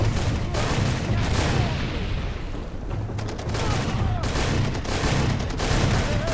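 Gunfire in the video game Far Cry 2: dense bursts of shots, loud and near, repeat throughout in ragged volleys.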